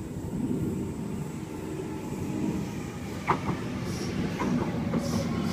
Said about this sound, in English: The Sutto Express is now arriving into Platform 3 here at Strathfield.